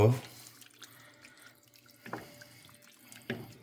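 Water is poured over bommidala fish curry in a pan, with a splashy pour at the start and two short liquid splashes later, fairly faint against a quiet kitchen background.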